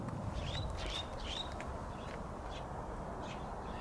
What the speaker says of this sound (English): Even the birds in the background are singing now.